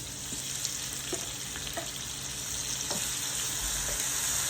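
Tomatoes sizzling and frying with onion in a pan, a steady crackle with a few sharper pops and stirring clicks, close and moderately loud with no voices.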